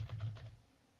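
A computer keyboard is typed on in a short burst of several quick, close keystrokes that fade out at the end, alone and without any voice.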